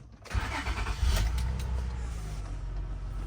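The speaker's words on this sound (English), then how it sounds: "Go ahead and start the car." A 2001-2006 Acura MDX engine cranks and catches after a transmission drain and fill, then settles into a steady, close idle.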